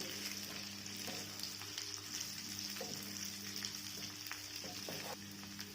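Stuffed okra (lady's finger) frying in a pan, a steady soft sizzle running throughout with faint occasional stirring clicks and no talk.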